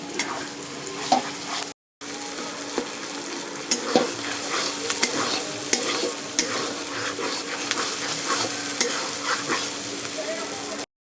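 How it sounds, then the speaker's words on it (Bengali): Potatoes and masala fry in hot oil for rajma tarka, with a steady loud sizzle and repeated scraping stirs of a spoon against the pan, briefly cut off near the start. "এই যে আমি মশলার সঙ্গে আলুটাকেও ভালো করে ভেজে নিলাম"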